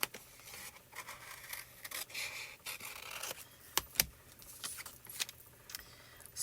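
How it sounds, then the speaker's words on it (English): Scissors snip through foil paper in short, crisp cuts with rustling and crinkling between them, close and fairly quiet, with a few sharper clicks scattered across the stretch. "I'm just going to cut out the pieces that I want."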